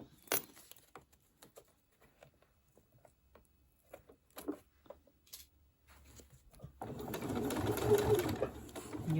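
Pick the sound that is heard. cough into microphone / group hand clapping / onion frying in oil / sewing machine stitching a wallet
sewing machine stitching a wallet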